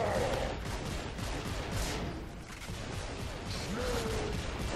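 Close-range shotgun blasts ring out in Gears of War 3 multiplayer amid dense, noisy battle ambience, heavy booming bursts layered over continuous rumbling game sound.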